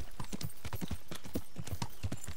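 Horse hooves clip-clop steadily in Kingdom Come: Deliverance, a brisk, even rhythm of sharp hoof strikes that fills the whole moment with no talking.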